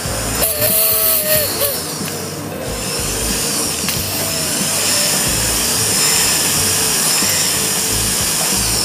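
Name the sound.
rotary grinder tool running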